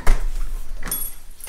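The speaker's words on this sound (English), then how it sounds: "Just keying the door." An apartment door in Wroclaw, Poland is unlocked with a key: close metallic jangling and scraping, then a couple of sharper clicks from the lock, with no voices.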